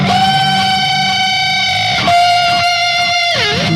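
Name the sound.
guitar string bend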